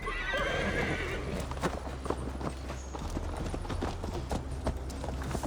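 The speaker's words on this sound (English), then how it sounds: "Mount up, Eivor. It's a long ride to Tamworth" A horse ridden in the video game Assassin's Creed Valhalla gallops with rhythmic hoofbeats, and a whinny opens the stretch over a low rumbling backdrop, fairly close and steady.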